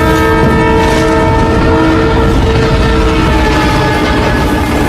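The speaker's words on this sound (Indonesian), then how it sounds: "Lalu kereta api pun hendak melewati jalan itu." A train passes a railway crossing, blowing its horn in a loud, sustained blast with steady tonal layers above a dense rumble of rolling wheels, close and continuous throughout.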